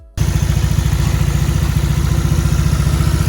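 A Honda Vario 125 scooter with a bored-out 58.5 mm RX7 Racing block kit idles steadily right beside the listener, its exhaust note a smooth, even, continuous pulsing throb.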